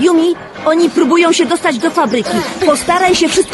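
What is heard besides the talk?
No everyday noise stands out behind the speech.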